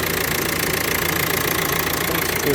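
A used Renault's engine idles steadily with a continuous rumbling, slightly knocking hum, close by, with no talking.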